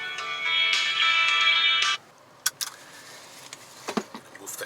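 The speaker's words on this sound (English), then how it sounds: "Wait, phone call." A phone rings inside a 2020 MINI JCW Clubman cabin, a steady harmonic ring tone lasting about two seconds before cutting off, followed by soft clicks and cabin rustling.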